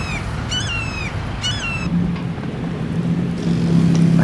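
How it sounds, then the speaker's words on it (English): A hawk calls on a trail, two descending screeches near the start, moderately distant, over a steady rumble of wind or passing traffic. "I keep hearing that hawk."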